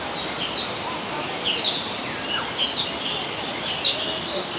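Birds call from the trees of an aviary in a series of short, bright chirps that repeat every second or so over a steady outdoor hiss.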